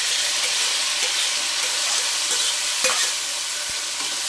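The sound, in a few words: tomato and green chili pieces frying in a pan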